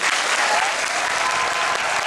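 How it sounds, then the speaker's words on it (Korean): A theatre audience at the curtain call of the Korean musical Winter Journey claps loudly and continuously, dense even applause filling the hall and thanking the orchestra and conductors. "지휘자 겸 음악 감독님이신 신은경 감독님과 그리고 부지휘자님 정찬민 부위자님께도 진심으로 감사의 박수를"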